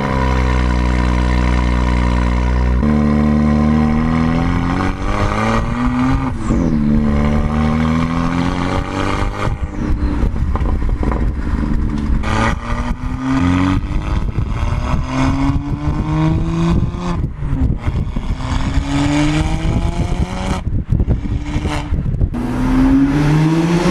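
A tuned BMW 1 Series M Coupé making 505 hp, fitted with modified downpipes and a fully changed exhaust system, roars loudly as it repeatedly accelerates through the gears, its engine pitch climbing and dropping at each shift with crackling exhaust pops.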